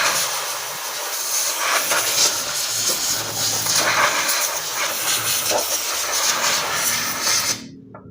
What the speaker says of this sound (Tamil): நம்ம லைட்டாக இந்த டஸ்ட்லாம் ஏர் அடிச்சு க்ளீன் பண்ணிடலாம்.